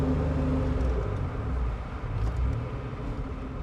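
A 1987 Pontiac Fiero drives with its engine giving a steady, deep rumble that stays loud and continuous throughout, with no one speaking.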